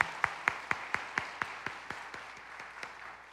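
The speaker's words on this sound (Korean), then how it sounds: "우리 감사의 박수 한번 다시 한번 하겠습니다." A church congregation claps in thanks during a worship service, sparse individual claps in a steady rhythm that gradually thin and fade over a few seconds, with no talking.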